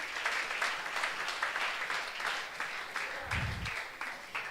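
A church congregation at a Spanish-language worship service applauds together, a dense, sustained wash of clapping that fills the room, with a faint low thump partway through.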